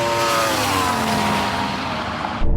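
A Ferrari SF90 and a Yamaha R1 motorcycle drag racing, producing a loud, sustained high-revving engine roar that fills the scene before cutting off abruptly near the end, with a low thump following.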